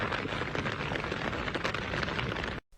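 Heavy hail falls in a dense, steady hiss of hailstones pelting the ground, loud and continuous until it cuts off abruptly near the end.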